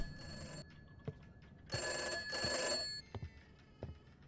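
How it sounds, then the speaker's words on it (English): An old-style telephone bell in the video game Summer of '58 rings in two loud jangling bursts separated by a pause, with a few soft knocks and thumps around them. "And the phone is ringing."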